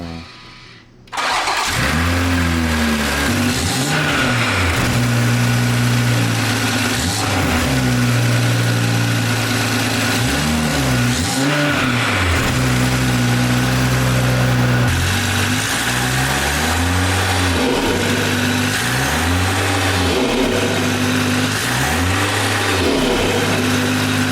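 BMW M340i fitted with a loud front mount intake and dual slat grille cranks and fires up, then settles into a steady idle broken by repeated sharp revs that rise and fall; loud and close, no talking.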